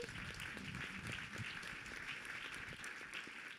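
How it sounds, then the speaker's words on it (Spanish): Sustained applause from an audience at a university lecture, a dense wash of many hands clapping throughout at a steady, moderate level. "Un aplauso para él."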